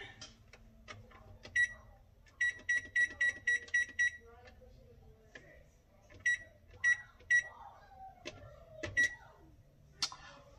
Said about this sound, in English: Now I'm about to get ready to set the timer.